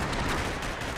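Rapid gunfire from a Max Payne 3 multiplayer match on PC, a dense continuous burst of shots filling the whole moment with no pauses.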